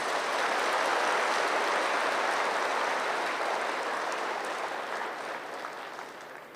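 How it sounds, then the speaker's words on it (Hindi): Sustained applause from a spiritual gathering's audience, a dense, steady wash of clapping that holds strong for several seconds and slowly thins toward the end, with no voices over it. "तो ऐसी दादियों के लिए एक बार भरपूर रीत से हम ताली बजाएंगे।"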